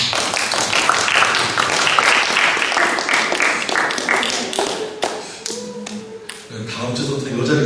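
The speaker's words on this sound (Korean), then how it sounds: "우리 그동안 수고했다고 또 잘 다녀오라고 우리 힘차게 또 격려의 박수 올리겠습니다" A church congregation gives a loud, dense round of encouraging applause for a young member leaving for military service, the clapping steady and close before thinning toward the end, with a few voices mixed in.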